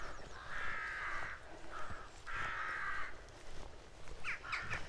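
Crows caw in the countryside at Firsby, Lincolnshire, in a few long, rasping calls separated by short pauses, followed by quicker clipped caws near the end, with no talking.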